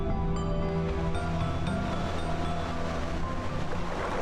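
Pacific Ocean surf rolls in at a Siargao surfing spot, a continuous roar of breaking waves mixed with wind buffeting the microphone, steady and fairly loud with no voices.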